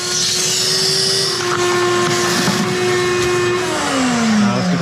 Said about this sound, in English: So we got a vacuum with a tube and a tube.